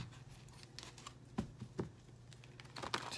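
Tarot cards shuffled by hand for a love reading, giving soft papery riffles and a few sharper snaps at close range with no talking, quiet and intermittent.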